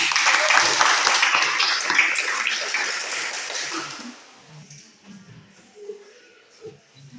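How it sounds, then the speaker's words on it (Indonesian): Classroom applause from students, a dense burst of clapping that is loud at first and fades over about four seconds, leaving scattered faint taps and shuffles. "coba kita beri aplaus dulu"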